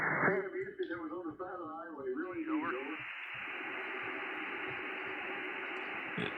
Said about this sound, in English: So this is the sound of the SDR.